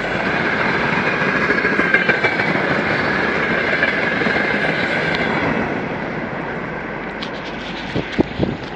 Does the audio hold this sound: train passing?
yes